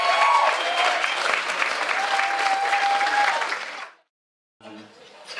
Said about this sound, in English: Give a round of applause for the appearance of the groom, Joanna and David